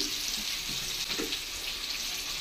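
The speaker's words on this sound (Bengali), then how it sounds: "এইভাবে সব পনিরগুলো একে একে ভেজে নেবো" Salted paneer pieces fry in hot oil in a pan, giving a steady, dense sizzle that carries on without a break, close and fairly loud with no talk over it.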